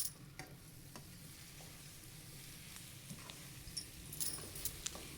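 Green chili paste frying in a pan while being stirred, a quiet steady sizzle broken by soft scrapes and light metallic clinks near the end, no voices.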